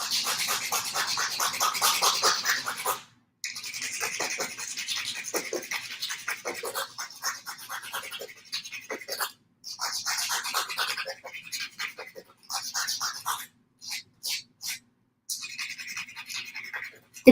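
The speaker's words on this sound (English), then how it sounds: "It's okay to go back and forth with a nail file." Rhythmic back-and-forth rasping of a nail file on a plastic KISS press-on nail, close and fairly quiet, in short strokes with a few brief pauses toward the end.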